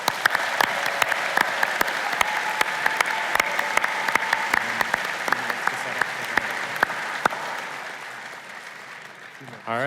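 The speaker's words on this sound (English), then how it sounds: "Let's also have a huge round of applause for our runners-up, the second place team in the whole country" A crowd applauds the runners-up team at a national high school competition, with sustained clapping and sharp individual claps standing out near the microphone, fading gradually toward the end before a brief sound cuts in.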